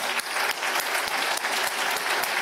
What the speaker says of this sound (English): we need to give a big round of applause to the Prime Minister